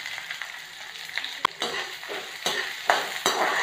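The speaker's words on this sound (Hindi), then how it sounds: "अब इसमें प्याज और हरी मिर्ची डालेंगे" Onion and green chillies go into a pan of frying ginger and garlic for sarson da saag, giving a soft sizzle with several quick stirring scrapes and clinks close by.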